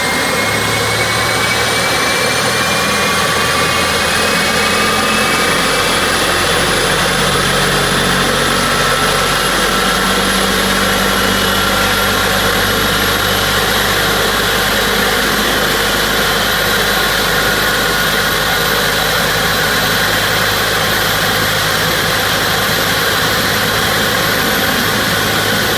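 Airliner jet engines in a Roblox flight game roar continuously through pushback and taxi, a loud sustained whine with rising tonal pitches over a deep rumble, with no voices.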